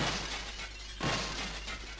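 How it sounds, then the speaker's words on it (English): Glass shatters inside a video game level under construction, a faint crash of breaking glass followed by a short, brittle burst of tinkling fragments around the middle over a low steady hum. "that's still got the glass sound to it"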